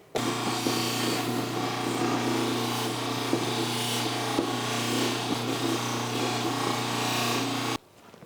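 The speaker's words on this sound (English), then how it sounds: "so after polishing with the wheel" A polishing wheel buffs a 3D printed nightguard during a light final polish, giving a steady, loud motor hum with scuffing contact texture that runs continuously for about seven and a half seconds before cutting off.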